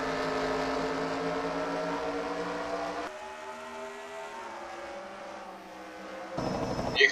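NASCAR Sprint Cup race cars scream around New Hampshire, a sustained high engine whine that drops sharply as the pack passes and fades, then rises again as another car approaches.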